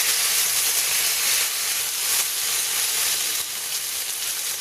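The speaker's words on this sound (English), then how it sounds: "you do want to move it and make sure it's cooked on every side, just to sear and hold in the juices" Ostrich steak sears in a covered pan, a loud, continuous close sizzle and hiss of frying with slight swells, and no voices.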